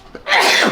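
One person sneezes once, loud and close: a short breathy intake and then a sharp explosive burst that fades quickly.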